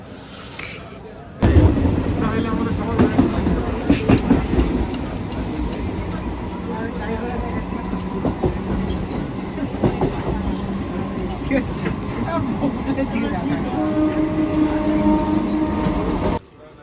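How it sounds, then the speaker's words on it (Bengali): A commuter train rolls into a station with a loud, steady rumble and clatter that holds for most of the stretch, while people talk nearby over the noise. "এই তো ট্রেন চলে এসছে ফাইনালি"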